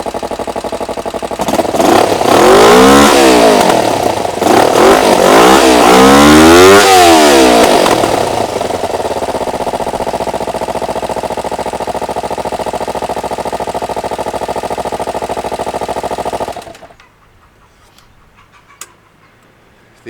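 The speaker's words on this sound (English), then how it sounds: "Next, I'm going to go ahead and press the button and start the engine." A Kawasaki Ninja 250 motorcycle engine fitted in an off-road buggy revs loudly in several rising and falling sweeps, drops to a steady buzzing idle, then cuts off into near silence with a faint click.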